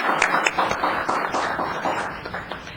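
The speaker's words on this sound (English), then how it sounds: "So it's our turn to applause for you" Audience at a town council meeting clapping, a short burst of scattered, moderately close applause that tapers off within a few seconds.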